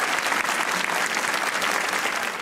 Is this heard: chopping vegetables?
no